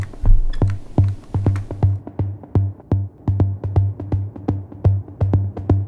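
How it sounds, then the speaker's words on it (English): Repeating plucked or struck notes with dotted-eighth-note delay echoes from a Valhalla DSP plugin trailing after each, forming a steady rhythmic delay pattern over a low sustained tone. "a very popular delay plugin from Valhalla DSP"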